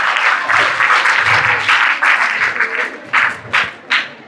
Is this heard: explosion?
no